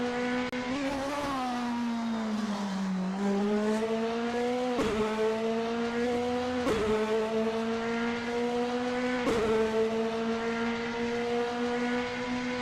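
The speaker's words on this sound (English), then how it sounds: "Bill and Visa G is on their out lap, warming up the tires and getting ready to put in a fast lap time." A race car on its out lap at the Nürburgring in a sim racing game holds a steady, droning engine note that dips and climbs, with several sharp gear-shift blips spaced through the run and no voices.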